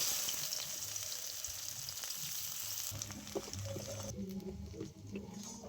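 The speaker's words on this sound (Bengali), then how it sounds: "পেঁয়াজটা খুব ভালো করে লাল লাল করে ভেজে নিয়েছি" Chopped onions fry in a pan with whole cinnamon, cardamom, cloves and cumin seeds, producing a dense, steady sizzle close by with occasional crackles and light stirring scrapes.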